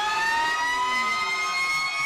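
Fire engine siren from a ladder truck in a Santa parade in Milford, a steady loud wail holding a high tone that slowly drops as it passes close by, with no talk over it.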